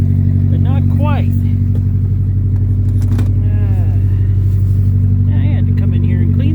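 Chevy Tracker engine running after a fuel pump install, a loud steady idle hum throughout with someone talking over it.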